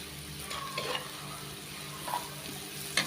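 Fish frying in a pan with turmeric while it is stirred, a soft, even sizzle with a few quiet scrapes and a sharper knock at the end, no speech.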